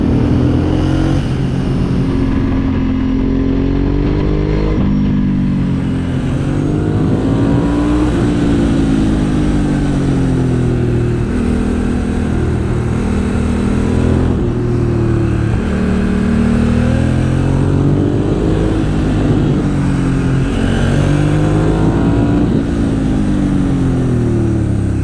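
A Ducati Monster motorcycle engine revs loud and close for the whole stretch, its deep exhaust note rising and falling steadily with no talking over it.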